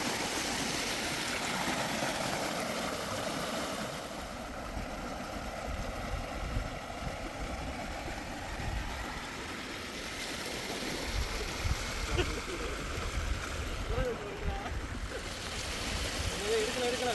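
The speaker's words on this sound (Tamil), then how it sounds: "இப்போ எவ்வளோ தண்ணி அழகாக வருது பாருங்கள், எவ்வளோ ஃபோர்ஸாக தண்ணி வருதுன்னு" After Cyclone Ditwah, water pours forcefully into a village pond in Ramnad, making a steady rushing roar that stays strong throughout, with talk over it.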